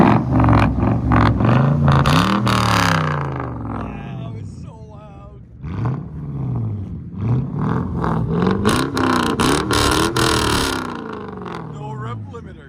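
A Lexus LS 430 with a 4.3L V8 and true dual straight pipes revs hard in repeated loud bursts, rising and falling between blips, close by, with voices talking over it.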